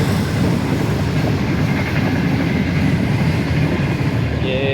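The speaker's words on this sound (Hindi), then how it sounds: "ये फिर ट्रेन आ गई है।" A train rumbles past near a home terrace with a steady, dense roar that holds throughout, and a faint high whine or horn tone appears near the end.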